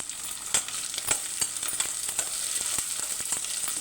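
Sweet corn and onion fry in a pan with a steady sizzle, broken by frequent sharp crackles and pops as the corn swells in the oil.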